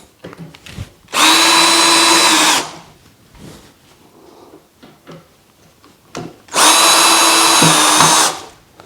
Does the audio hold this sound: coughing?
no